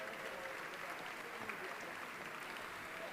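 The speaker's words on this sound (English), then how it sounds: "well-deserved round of applause." Steady applause from a crowd at a sports hall of fame induction ceremony, dense and continuous throughout, with some voices mixed in.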